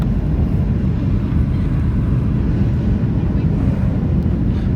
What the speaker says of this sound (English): I think it's just probably going to be idle reverse. Landing with idle reverse.